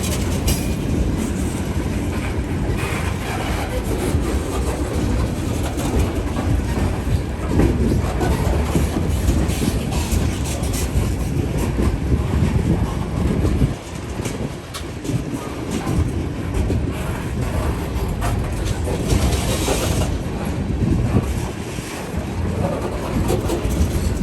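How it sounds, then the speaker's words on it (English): Heavy freight train locomotives labouring on wet rails, a continuous loud rumble with clattering wheels and metallic rail noise rolling past nearby for the whole stretch, no talk. "These locomotives got a good workout today on these wet rails."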